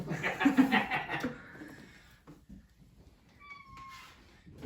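A cat meows a few times up close, followed by quieter shuffling and a soft, high chirping trill near the end.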